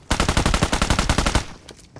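Rapid automatic gunfire from a mobile battle royale game, a dense burst of about fifteen evenly spaced loud shots lasting over a second, then tapering into scattered fainter reports and clatter.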